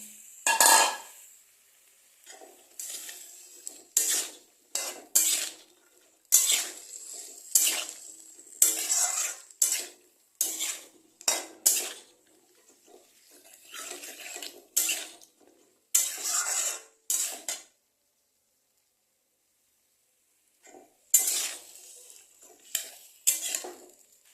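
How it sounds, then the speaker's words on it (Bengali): Chicken stew with vegetables stir-fried in a pan over medium heat, a long series of clattering, scraping stirs against the metal with a light sizzle beneath, close by, and a brief quiet pause near the end. "আঁচটাকে মিডিয়াম রেখে এটাকে ভালো করে কষাতে হবে"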